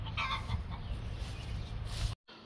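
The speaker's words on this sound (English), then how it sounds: "the noise in the background, my hen's showing off because she just laid an egg" A hen clucks steadily in the background after laying an egg, a continuous, moderately loud cackle running for about two seconds before cutting off abruptly.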